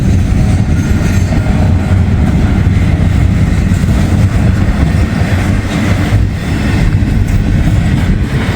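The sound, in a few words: intermodal freight train passing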